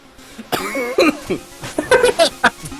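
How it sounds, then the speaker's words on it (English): A person coughs hard several times in quick, uneven bursts, close and loud. "I just start coughing."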